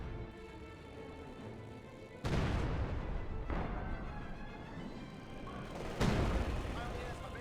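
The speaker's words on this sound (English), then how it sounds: "We'll in fact see a barrage from the SU-76" SU-76 artillery barrage in the Company of Heroes 2 game, three heavy booming impacts spaced a few seconds apart over a steady rumbling battlefield bed, with a commentator talking underneath.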